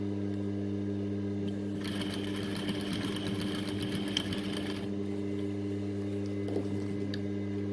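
A sewing machine stitches a backtack on a sewn cape, a steady low motor hum with a brisk rapid needle chatter rising for about three seconds in the middle, then returning to a quieter hum.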